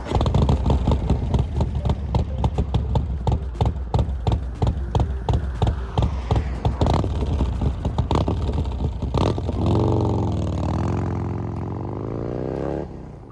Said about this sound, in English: I started the bike up, and I could immediately hear a difference in the sound